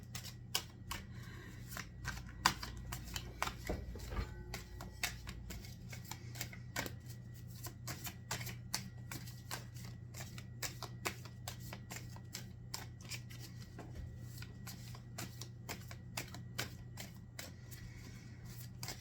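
Tarot cards are shuffled by hand in a quiet room, a soft, rapid and steady patter of card clicks and riffles running throughout with no speech.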